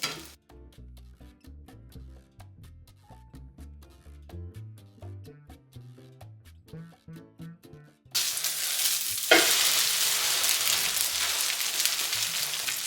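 Eggs and already-boiled spaghetti fry in oil in a pan. The sound starts quiet under background music, then a loud, steady broadband sizzle takes over for the last few seconds. No one speaks.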